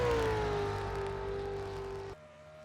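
A race car engine from the NASCAR Racing 2003 game during Daytona qualifying drones steadily at high revs, its pitch sliding slowly downward before cutting off abruptly, faint and alone.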